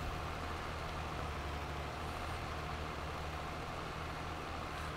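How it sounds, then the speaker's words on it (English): Massey Ferguson 8740S Special Edition tractor in Farming Simulator 22, its heavy diesel engine droning at a steady low hum, constant and unbroken with no change in pitch. "It is a Massey Ferguson Special Edition tractor."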